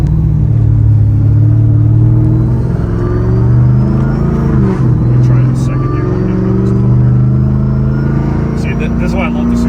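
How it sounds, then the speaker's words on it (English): Supercharged 700 WHP 2009 Pontiac G8 engine with supercharger whine, a loud continuous rumbling drone with rising and falling revs, close by, with people talking over it. "This is why I love the supercharger sounds. That sounds dope, man. The little whine."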